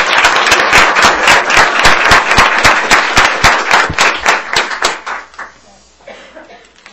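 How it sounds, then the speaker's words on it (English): A crowd at a board meeting applauds board members, dense loud clapping that holds steady for about five seconds, then thins out and fades to scattered claps. "And a round of applause, please, for our board members."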